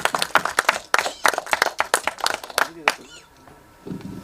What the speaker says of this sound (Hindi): एक बार जोरदार तालियां प्लीज इसी पर।